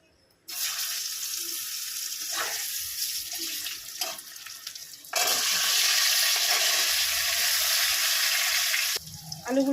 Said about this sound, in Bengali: আলুটাও সেদ্ধ করে নিয়েছিলাম, একটু ভেজে নেব